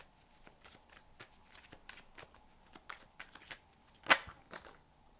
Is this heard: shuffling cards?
yes